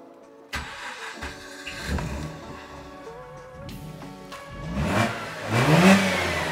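A Mazda RX-8 rotary engine cranks and fires into life, then settles and revs up, loud and close with no talk over it.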